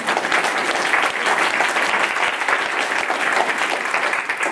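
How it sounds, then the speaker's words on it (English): An award-ceremony audience claps steadily and loudly throughout, a dense wash of hand claps with no voices. "Yes, we can applaud."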